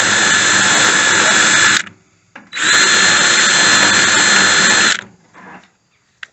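A power drill whirs loudly in two long bursts separated by a brief pause, with a few faint clicks and thumps afterward, as a drill bit widens holes while building a DIY button box.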